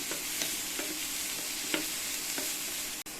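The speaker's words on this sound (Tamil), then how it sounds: "சேர்த்த வெஜிடபிள்ஸ் எல்லாத்தையுமே நல்லா இந்த மாதிரி வதக்கி விட்டுக்கணும்." Mixed vegetables for chutney being sautéed in a pan, a soft continuous sizzle broken by a few light stirring scrapes, close and unaccompanied by speech.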